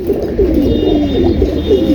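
Soft, throaty pigeon cooing repeats steadily at close range, a low rolling call with no other sounds competing.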